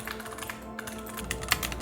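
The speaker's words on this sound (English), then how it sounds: "Its dexterous fingers dance gracefully across a mechanical keyboard" Mechanical keyboard keys clacking in quick, irregular taps for a couple of seconds, steady and fairly close, with one louder keystroke near the end and no voices.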